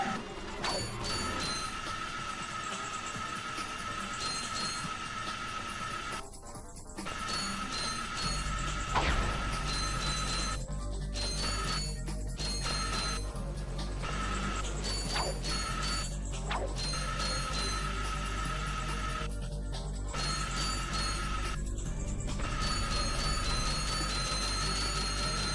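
Metallic grinding along rails in the Ratchet & Clank game, a steady sustained scraping hum layered with music and periodic clanks and dings, continuous and fairly loud throughout.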